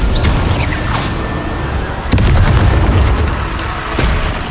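Incendio fire spell cast in Hogwarts Legacy, a loud booming burst with a sharp crackling onset, then a rumbling fiery roar and a second, smaller burst toward the end.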